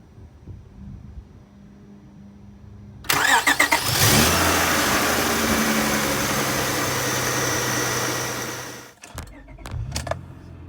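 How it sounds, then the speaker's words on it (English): A 1998 Honda Accord EX with a single overhead cam 3-liter VTEC V6 cranks briefly, catches with a loud rev, then settles into a steady idle for several seconds before cutting off, followed by a few clunks. "Powering this Accord is Honda's single overhead cam 3-liter V6 with VTEC"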